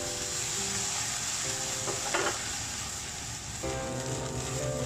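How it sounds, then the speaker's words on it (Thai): Konjac with egg and soy sauce stir-fried in a pan for a keto dish gives a steady sizzle, with a few brief scraping stirs of a utensil; no one speaks. "แล้วก็ทำการผัดคลุกเขาให้ส่วนผสมเข้ากัน"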